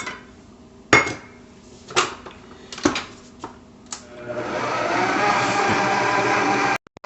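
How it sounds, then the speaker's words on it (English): A stand mixer runs steadily, creaming sugar into cream cheese pound cake batter; a few sharp clinks and knocks come first, then the whirring motor settles into a continuous, fairly loud drone for the last few seconds. "we're going to add the last cup of sugar and let that mix for a few more minutes"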